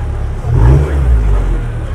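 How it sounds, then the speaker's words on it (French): Porsche engine revving at a youngtimers car gathering in Vesoul, a loud low rumble that swells through the middle of a short burst and then settles, close by. "on a une Porsche Booster là"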